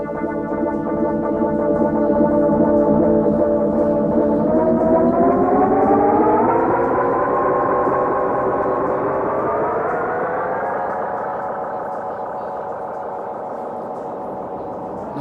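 A Rhodes MK8 analog effects module makes a loud, dense distorted drone with a sustained harmonic stack that slowly glides upward like a siren and then holds, continuous for about fifteen seconds with no voices.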